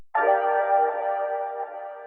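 A chopped Splice sample snippet soaked in heavy reverb and delay gives one sustained ambient tone that swells in and slowly fades over about two seconds, alone and fairly quiet.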